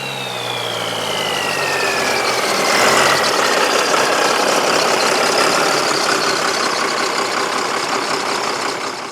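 A diesel engine on a homemade manure spreader rat rod runs steadily and loudly up close, with a deep rumble and a brief rise in revs near the start.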